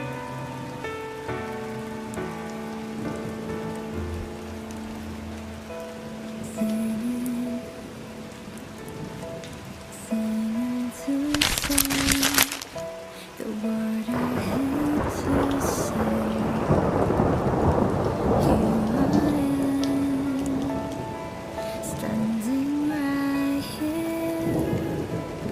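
Rain and thunder in Sakura School Simulator: a steady downpour hisses under a looping tonal melody, with a sharp thunderclap cracking midway and heavier rain surging afterward.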